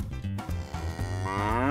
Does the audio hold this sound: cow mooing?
yes